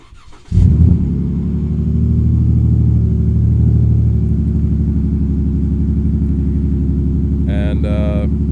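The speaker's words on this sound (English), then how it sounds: "I'll quick demonstrate it for you, and then you can hear the cherry bomb exhaust" A 2018 Dodge Ram with the 3.6 Pentastar V6 and Cherry Bomb exhaust fires up by remote start, a sudden crank then a deep, loud steady idle rumble close by, with a brief chirp near the end.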